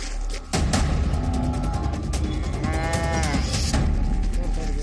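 A water buffalo gives a loud, drawn-out moo from close by, rising over a steady background rumble and scattered knocks.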